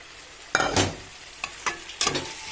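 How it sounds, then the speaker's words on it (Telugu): Chicken pieces for a chicken curry dropped into a hot pan with turmeric and salt and stirred, giving a steady close sizzle broken by a few sharp scraping stir strokes and splashes. "ఇప్పుడు దీంట్లో మనము చికెన్ చికెన్ వేసేసుకుందాము"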